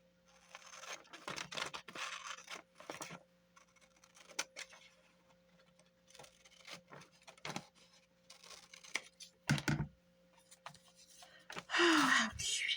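Scissors cutting paper for a 1960s-themed journal page, with intermittent close snips and rustles and a louder crinkle near the end, faint and handled at close range.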